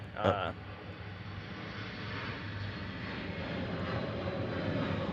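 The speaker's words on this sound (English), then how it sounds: "Airplane." A fixed-wing jet airplane passing overhead, a steady low roar that swells gradually across the clip after a brief bump at the start, heard from outdoors at a moderate distance.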